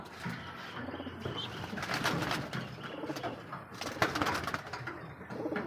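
Flying-breed pigeons in a loft coo softly and repeatedly, several birds overlapping in a low, rolling murmur with occasional light chirps and rustles.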